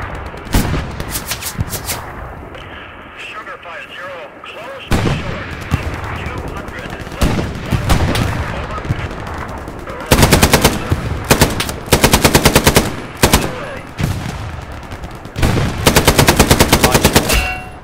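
Gunfire in the World War II shooter game Hell Let Loose, loud rapid machine-gun bursts and single shots in repeated volleys, with distant booms and a voice talking in places.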